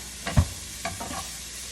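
A croque-monsieur cooks in a pan on a low burner, giving a soft, steady sizzle with a couple of brief scraping stirs near the start.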